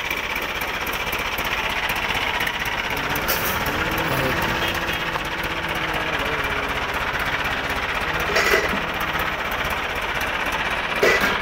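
A black Massey Ferguson MF265 tractor runs with a steady, rapid engine chatter throughout, continuous and fairly close, with a few brief clanks near the end.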